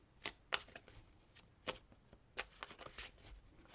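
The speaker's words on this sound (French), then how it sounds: "Je vais tirer une dernière carte pour terminer votre tirage" Quiet, close riffling and flicking of tarot cards being shuffled and drawn, a series of irregular soft snaps and slides in short bursts with no talking.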